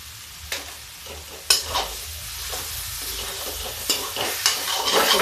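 Curry leaves frying and being stirred in a pan while cooking a home eggplant dish, with sharp sizzling crackles and a few scraping stir strokes over a low background hiss, close and alone.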